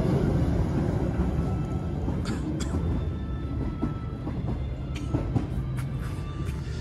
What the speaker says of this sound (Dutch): De enige echte stoomtrein die passeert.